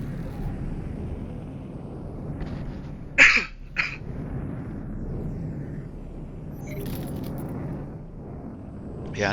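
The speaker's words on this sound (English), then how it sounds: "apologize for all the coughing" A person coughs close to the microphone, two sharp bursts in quick succession followed later by a fainter one, over a low steady background hum.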